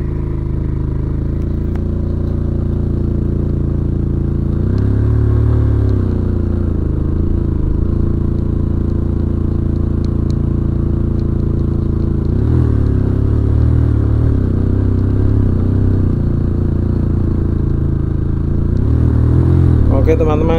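Motorcycle engine laboring up a steep road with two riders aboard, a loud continuous drone that swells with revving surges as it strains on the climb, near and steady throughout.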